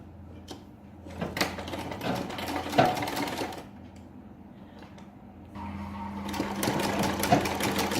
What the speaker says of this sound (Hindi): चलिए एक और सिलाई लगा ले रहे हैं हम।